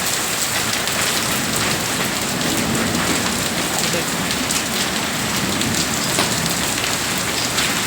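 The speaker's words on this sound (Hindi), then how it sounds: "गाय के ऊपर जो टीन है उस पे गिर रहे हैं, तो आवाज़ हो रही है" Large hailstones drum on a tin roof over a cow shed during a storm, a dense continuous clatter and hiss, loud and steady throughout with no break.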